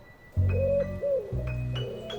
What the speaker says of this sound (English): A pigeon cooing.